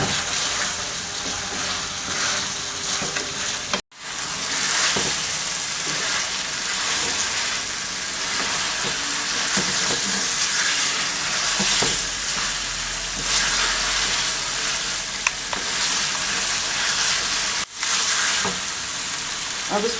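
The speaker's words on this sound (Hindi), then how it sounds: "5 से 7 मिनट कम से कम इसको ज़रूर मसाले में चिकन को भूनना है।" Chicken frying in masala for palak gosht, a loud continuous sizzle with occasional stirring scrapes that runs steadily throughout, broken only by two brief dropouts.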